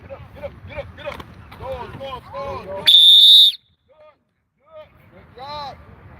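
At an offense-defense youth football development camp, a coach gives one loud, sharp whistle blast of about half a second, set between stretches of talking by a nearby voice.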